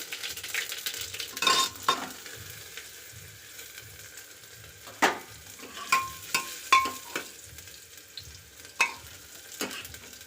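Cumin and garlic fry in a pan for an aloo vadiyan sabzi, a quiet sizzle broken by several sharp stirring scrapes and clinks at irregular intervals.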